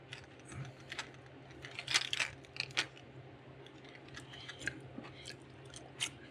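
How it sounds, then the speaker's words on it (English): Scissors snip away excess foil on a custom crankbait lure, giving a few quiet, scattered cuts and small clicks up close with no talking. "We'll have to cut a little of that off."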